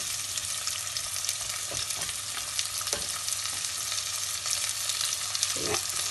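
Tomato is added to onions frying in oil for a Palakkad-style Kerala fish curry, giving a steady close sizzle with a few soft stirring scrapes and no talk.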